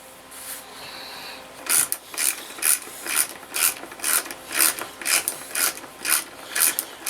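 Bolts being started by hand during assembly of an AmazonBasics Big & Tall executive office desk chair, giving a steady series of about ten rhythmic ratcheting clicks, close and fairly loud, with no talk.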